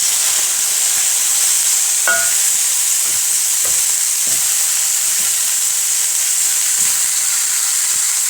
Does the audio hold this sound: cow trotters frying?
yes